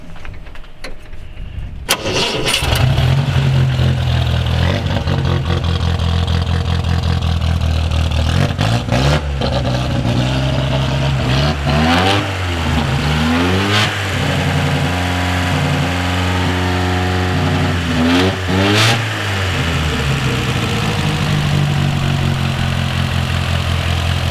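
A 1929 Riley 9 trials car's 4-cylinder 1100cc engine cranks and catches, then settles into a steady idle broken by several sharp revving bursts, close and loud.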